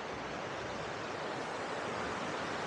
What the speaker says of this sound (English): So we're right on the river